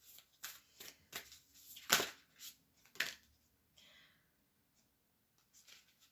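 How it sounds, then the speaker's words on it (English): Moonology oracle cards are shuffled and picked, with several quick riffling bursts up close and then a pause before faint card handling at the end. "We're going to pick a Moonology card here."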